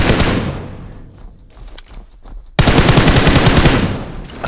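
Close, loud PUBG Mobile gunfire in rapid automatic bursts, dropping briefly to a softer rattle before a dense volley resumes, with no talk over it.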